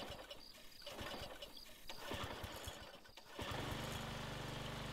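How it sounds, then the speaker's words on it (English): A lawnmower starts up in the video game Lakeview Cabin, a short uneven rattle and sputter, then the engine catches and runs at a steady hum, loud and close. "Start the lawnmower."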